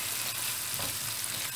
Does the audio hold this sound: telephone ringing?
no